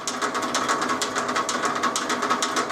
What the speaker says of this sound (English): We're turning with one bolt holding the tooling, which is not good, but it's only soft cast iron